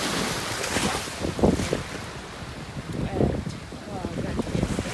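Ocean waves wash onto Coral Beach in Cancun, a steady surf rush with two brief swells of louder breaking, mixed with gusty wind buffeting the microphone and faint voices in the background.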